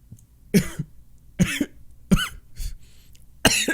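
Several harsh coughs in a row after inhaling vapor, close up, spaced about a second apart, with a raspy breath between them.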